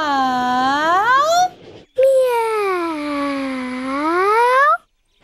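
A voice imitates a cat's meow in two long, wavering, high-pitched calls, with a short pause between them.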